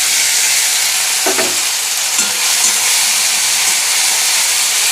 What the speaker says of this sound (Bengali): নেড়ে নিয়ে আদা বাটাটা দিয়ে দেবো।